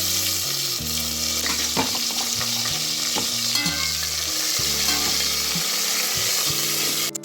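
Tomatoes hit a hot pan and fry with a loud, steady sizzle and stirring, music playing underneath throughout.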